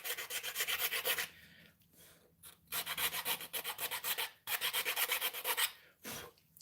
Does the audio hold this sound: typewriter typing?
no